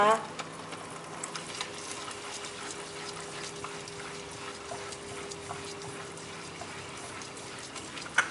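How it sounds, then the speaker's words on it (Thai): Chinese wine being stirred into a chicken wing sauce in a hot pan gives a steady, close sizzle with soft scraping of the utensil running throughout. "ขอใส่ไปเป็นสามช้อนโต๊ะค่ะ คนให้เข้ากันนะคะ"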